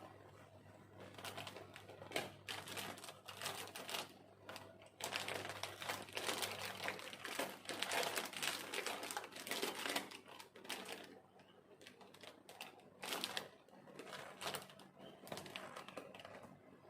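Adhesive tape is pulled and pressed onto a DIY pastel gift parcel, with long crackling, ripping stretches and crinkly handling noises that run on and off for several seconds, fairly quiet and without talk.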